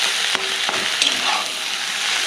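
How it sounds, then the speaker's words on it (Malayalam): Bonda potato masala with coriander leaves is stirred in a hot pan. A steady sizzle runs under a few scraping strokes of the spoon, close and fairly loud, with no voices. "അതിനുശേഷം മല്ലിയിലൊക്കെ ആഡ് ചെയ്തിട്ട് നല്ലോണം മിക്സ് ചെയ്തെടുക്കാം."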